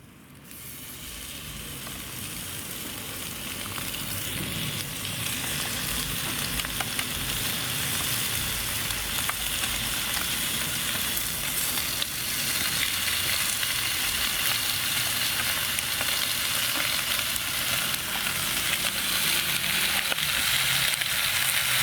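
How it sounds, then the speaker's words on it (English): Bacon sizzles in a pan over an outdoor twig stove, a steady bright crackling hiss that swells after the first few seconds and holds loud and close with no talking. "make room for my bacon, and I shall put the bacon in now"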